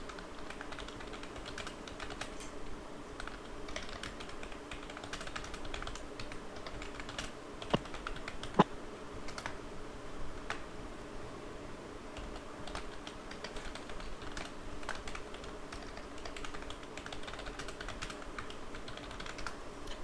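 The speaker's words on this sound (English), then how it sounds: "I'm typing it out." Someone types on a computer keyboard in a steady run of quick, light keystrokes, close and fairly quiet, with one sharper click partway through and no talking.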